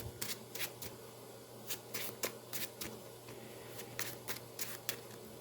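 Playing cards from the Marvel Champions card game are shuffled in quick riffling bursts, a series of crisp fluttering snaps close by with brief pauses between them.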